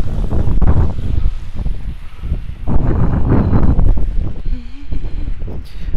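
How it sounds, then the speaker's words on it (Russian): Strong wind gusting outdoors on a city street, roaring and buffeting the microphone loudly and continuously throughout. "Блин, какой ветер, меня аж сносит с ног."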